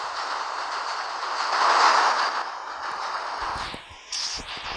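A train in the video game Ice Scream 3 rumbles past with a steady, loud whoosh that swells and fades, followed by a few clanks and a brief high tone near the end.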